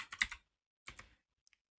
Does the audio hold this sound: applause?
no